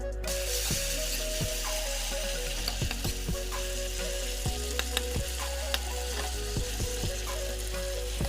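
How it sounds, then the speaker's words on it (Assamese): Chopped tomatoes with turmeric and salt frying in a pan, a steady close sizzle broken by scraping stir strokes, with no talk. "এনেকৈ অকণমান গ্ৰেভি হোৱালৈকে মিক্স হোৱালৈকে বিলাহীখিনি লৰাই থাকিম"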